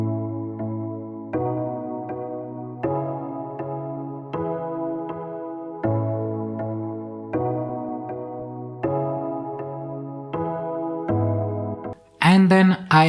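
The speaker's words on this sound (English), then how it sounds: "so I think I will go with an delayed piano here" Sustained piano chords with a delay effect repeat in a steady future bass pattern, each ringing into the next with an echoing tail, ending in a brief burst of brighter sound.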